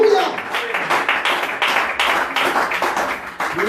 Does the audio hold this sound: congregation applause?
yes